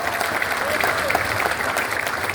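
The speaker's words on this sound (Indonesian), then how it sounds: "Tepuk tangan untuk Pak Haji Oding" Audience applause at a political declaration rally for Ridwan Kamil–Suswono, honouring Pak Haji Oding: dense, steady clapping across the whole stretch, fairly close and loud, with crowd murmur and some talk mixed in.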